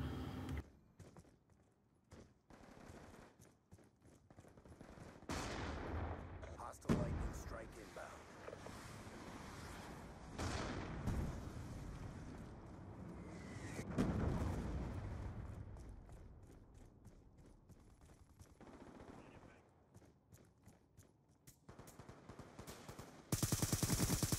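Automatic and single gunfire bursts from the Black Ops 2 video game ring out at a moderate level across a live multiplayer match, with a player talking intermittently over the shooting.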